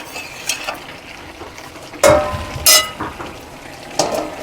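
A fish-head and greens curry is stirred in a pan: sparse scraping and clattering of a spoon against the pan in a few short bursts, over a low, soft background bubbling.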